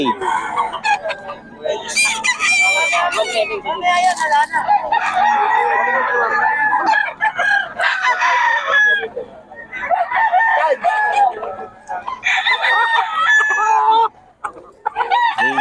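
Sweater cross gamefowl roosters at a gamefowl gathering in Bocaue crow loudly and close, with several long, overlapping cock-a-doodle calls and clucks following one another with brief gaps.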